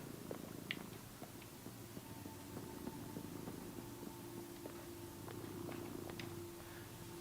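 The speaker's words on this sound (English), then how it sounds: "Can you hear her? Just having a purr." A cat purrs in the horror game Tormented Souls 2. A steady, faint, low rumbling purr runs continuously, with small in-game sounds scattered over it and no voices.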